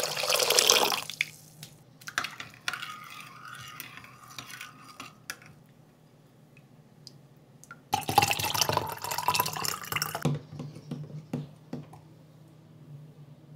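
Water is poured into a vinegar sauce with onion, garlic, chilies, pepper, sugar and salt for calamares: a steady splashing stream with clinks of kitchenware, a short pour and then a longer louder one, no talk.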